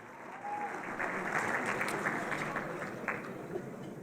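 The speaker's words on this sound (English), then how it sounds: "Give Nelson a round of applause." Audience at a Democratic presidential forum in Nevada breaking into sustained applause, a fairly distant crowd clapping steadily for a few seconds at moderate volume.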